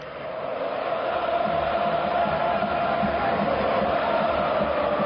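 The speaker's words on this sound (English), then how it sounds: "And listen to the crowd." A packed football stadium crowd roars continuously at a Serie A match between Napoli and Sassuolo, a dense, sustained wash of cheering and chanting that stays loud throughout.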